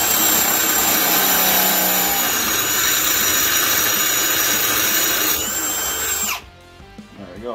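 A Ryobi One+ HP PBLDD01 cordless drill runs at speed two with a loud, steady high whine while boring, then winds down abruptly near the end, leaving a quieter tail with faint talk.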